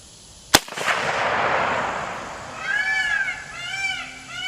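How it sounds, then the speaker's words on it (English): A Romanian RH10 rifle fires a single Barnaul round outdoors during distance shooting. The crack is loud and sharp, followed by a rolling echo, then a few chirping bird calls. No one speaks. "So this is actually bar null that I'm firing out of this rifle now, because I'm out of Tula ammo."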